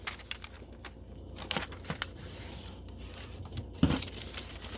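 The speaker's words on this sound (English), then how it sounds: "I have my full sheet, and I'm going to fold it in half." A glossy magazine sheet is folded in half, producing close, soft crinkles and scattered rubbing taps that end in a firmer crease press near the end. No voices.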